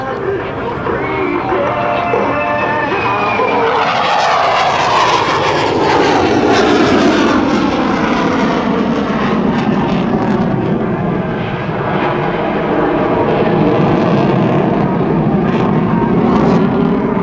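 F/A-18C Hornet fighter jet performing an airshow demonstration, a loud continuous engine roar with a sweeping pitch change as it pulls up and passes, a commentator's voice running over it throughout.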